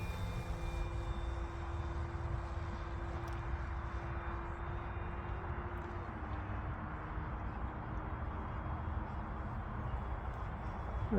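A Seagull Models 68-inch Super Decathlon RC plane flies overhead, its steady engine drone and whistle holding continuous and fairly distant across the whole stretch, with a slight pitch shift partway through as it passes.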